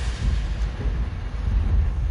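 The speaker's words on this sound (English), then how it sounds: "Oh my god, that lightning scares me." Lightning thunder in the video game Gone Home rolls as a loud, deep rumble, a sustained low crackling roar lasting a couple of seconds without a sharp single crack.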